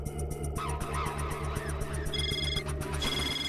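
A telephone rings in a quiet home scene of a Hindi TV comedy, repeated bright electronic ring bursts over a steady low hum, moderately loud.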